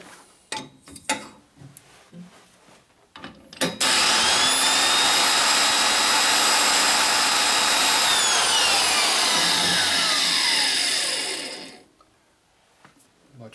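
Valve seat being ground on a 1967 Harley-Davidson 74ci shovelhead cylinder head, a loud, steady high-pitched grinding whine running about eight seconds before stopping, with faint clicks and handling noises before and after.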